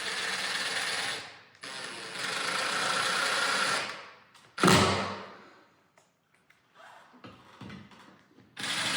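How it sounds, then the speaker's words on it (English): Screws are driven through a ceiling into wooden blocking inside a house with a power driver, giving several whirring bursts of a few seconds each, with a sharp knock and quieter handling sounds in between. "So I can just put screws right through here"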